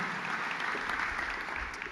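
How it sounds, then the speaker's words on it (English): Audience applause at a Juggling Elephants keynote as Lisa returns to her seat, a steady dense wash of many hands clapping throughout, fairly close and continuous with no talk. "Round of applause for Lisa."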